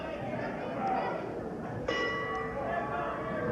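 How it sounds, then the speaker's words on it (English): A ring-side bell rings out once at a USA Championship Wrestling match in 1988, a brief metallic clang over steady crowd noise and a commentator's voice. "There's the bell, and once again the Dog right after it."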